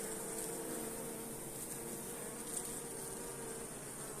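A steady, close buzzing of many honeybees hums continuously at a low level, with no voices; the hive is infested with varroa mites.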